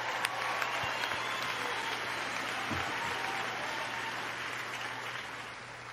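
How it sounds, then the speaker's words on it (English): Steady, fairly quiet applause runs the full length, an even wash of clapping with a low background hum beneath it. "I forgot the applause."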